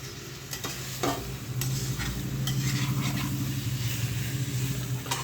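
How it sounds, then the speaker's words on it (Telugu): A spoon stirs masala through fish pieces in a hot pan for fish pulusu, with a few sharp scrapes over a close, continuous sizzle that swells and then steadies. "ఆ మసాలా మొత్తం ఆ ఫిష్ పీసెస్ కలిసేలా మొత్తం మిక్స్ చేయండి"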